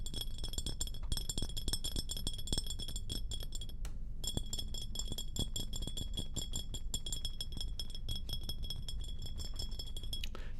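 A Mexican Coca-Cola glass bottle clinks and rings close up in a quiet room, giving a steady series of small taps with a lingering bright tone and a brief pause midway.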